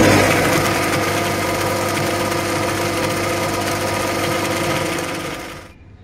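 Electric grinder blending a jhinge-alu poshto paste of poppy seeds, a loud continuous whirring motor hum that runs steadily before cutting off at the end.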